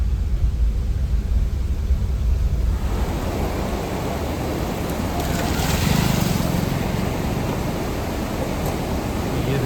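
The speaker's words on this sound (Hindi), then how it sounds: "पानी का फ्लो देखिए।" Monsoon floodwater coming down from the hills rushes through a jungle stream as a steady broadband roar. It fills the scene evenly and swells slightly partway through, with no clear voices over it.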